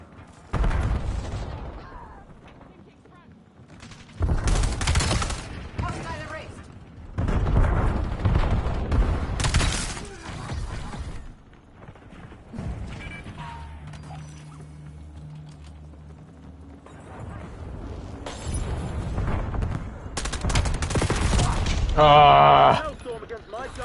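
Gunfire in the video game Call of Duty Black Ops 7: several bursts of loud gunshots and booming blasts with quieter gaps between them, and someone talking over parts of it.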